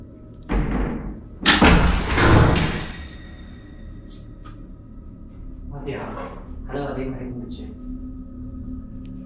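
A few dull knocks and thumps sound inside a house on a windy, rainy night, a couple of louder thuds early on followed by softer taps, with a voice talking quietly in between.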